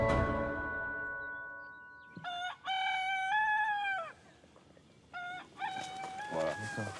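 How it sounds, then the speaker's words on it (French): A rooster crows several times in clear, loud, drawn-out calls with brief gaps between them, and a sustained tone fades out before the first crow. "Jean-François Mallet s'est réveillé au Chant du Coq ce matin"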